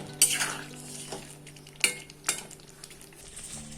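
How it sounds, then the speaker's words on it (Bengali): A spoon scrapes and clinks against a cooking pot as boiled moong dal is stirred with spices, a few sharp metallic knocks over a faint low simmer, close and quiet. "সেদ্ধ ডালটা দিয়ে মশলার সঙ্গে ভালো করে মিশিয়ে নিতে হবে।"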